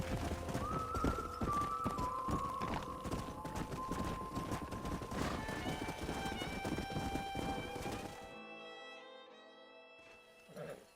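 Rhythmic clip-clop of horses' hooves in Red Dead Redemption runs under steady noise and tonal background music, fading into quieter music near the end.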